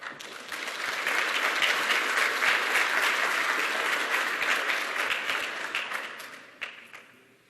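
An audience at a summit plenary session applauds the speakers, a dense sustained round of clapping that holds strong for several seconds and then tapers off with a few last claps.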